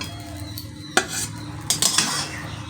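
Fried eggs being lifted out of a pan in a home kitchen making a Bengali egg curry, with sharp metallic clinks of a utensil against the pan, a few distinct clatters over a low background hiss.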